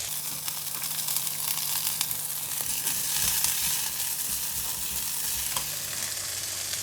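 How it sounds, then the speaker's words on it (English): Choy sum stems sizzling and frying in hot onion oil in a wok, a steady close hiss with occasional stirring clicks, no voices. "When oil is hot, I'm going to put in the choy sum stem."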